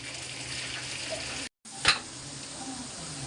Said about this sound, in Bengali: একটু পেঁয়াজ রসতেছি